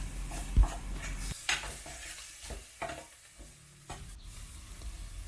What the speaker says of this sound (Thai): เราจะผัดด้วยไฟอ่อนนะคะ อย่าใช้ไฟแรงนะคะ เดี๋ยวพริกเราจะไหม้ก่อน